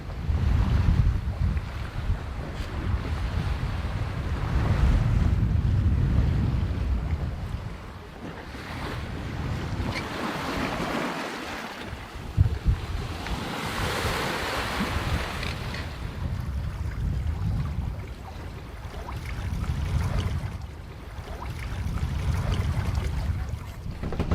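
Ocean waves and steady wind around a sailboat running with the wind directly behind it on a rolly sea, a continuous close rush of water and gusty wind buffeting the microphone, swelling and easing over the whole stretch.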